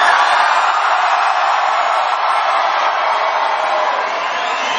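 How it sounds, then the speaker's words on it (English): A large political rally crowd in Miami cheering loudly, a continuous dense roar of voices and whoops sustained at high level throughout. "You are a beautiful crowd. You are a loud crowd."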